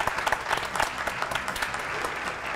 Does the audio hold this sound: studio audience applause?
yes